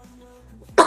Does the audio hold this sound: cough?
yes